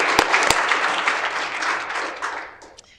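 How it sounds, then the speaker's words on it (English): An audience at a board meeting breaks into steady applause, a dense wash of clapping that fades out toward the end, with a couple of sharp close claps near the start. "We can have lots of applause tonight."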